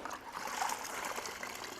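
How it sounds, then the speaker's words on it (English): A rinse rag swished around in a bucket of clean water while cleaning a wood floor, giving a steady close trickling, sloshing wash of water with no talk. "you can put it back in your clean water bucket. And whenever I do, I just like agitate it around"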